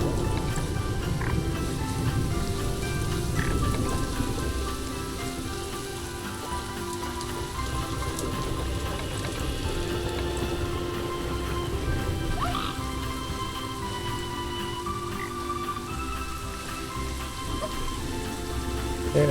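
Steady, dense rain from Planet Zoo weather set to full intensity, with a constant wash of drops pattering on surfaces and a faint low rumble beneath, unbroken for the whole stretch.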